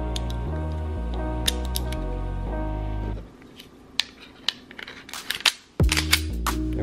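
A Taurus G2S pistol is reassembled with a few sharp metallic clicks and snaps of slide and barrel, heard after music fades out.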